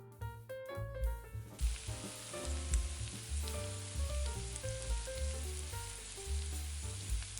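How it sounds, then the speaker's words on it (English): Onions sautéing in extra virgin olive oil in a pan, with a steady sizzle and hiss under prominent melodic background music. "continue to sauté the onions until soft, with a hint of caramelization"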